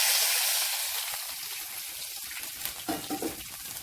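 Tamarind water is poured into a hot pan of mustard seeds, curry leaves and asafoetida for ginger kuzhambu. A loud, bright hiss fades into steady sizzling and bubbling, with a few clinks near the end. No talking is heard.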